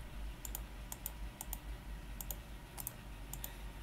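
Rapid paired clicks from a computer keyboard and mouse while moving items between chests in Minecraft, about seven crisp double-clicks in an even rhythm over a low background hum.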